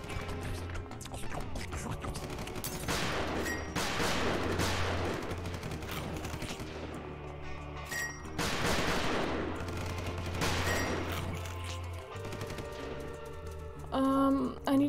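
Video game gunfire in a destroyed town, sustained bursts of shots rolling on and off over a steady low rumble, loud and continuous with a brief lull near the end.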